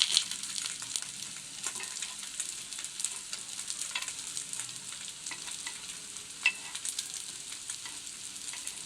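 Stuffed semiya jamun fry in ghee as they are turned over, producing a continuous close sizzle with small crackles and a few soft scrapes from the turning, and no voices.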